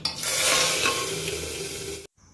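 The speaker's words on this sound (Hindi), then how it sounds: "तड़का लगा दिया" Tadka tempering for sambar sizzles and crackles in a hot pan for about two seconds, loud and close, then cuts off abruptly to near silence.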